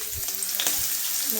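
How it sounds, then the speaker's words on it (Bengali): Capsicum fries in hot oil for a rice dish, a dense continuous sizzle close by with faint spoon scrapes, heard alone for a brief moment. "রাইসের এখন আমি ক্যাপসিকামটা ভাজছি।"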